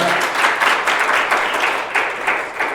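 A church congregation at a Sunday morning service applauds in a continuous burst of clapping, fairly loud and close, with rhythmic pulses throughout and no one speaking over it.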